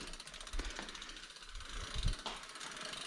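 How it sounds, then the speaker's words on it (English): Bicycle freewheel ratchet clicking as the pedals turn backward, a few close mechanical clicks and ticks spaced irregularly over a faint background. "now you're going to pedal back to put them on"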